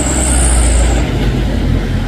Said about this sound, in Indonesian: Truk sayur kasih goyang dikit ya bosku